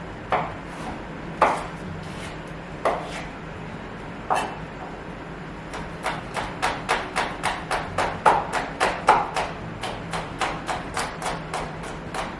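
A knife chops taco ingredients such as peppers, tomatoes and jalapenos on a cutting board for beef tacos, with a few spaced cuts and then a steady run of quick, close, crisp chops.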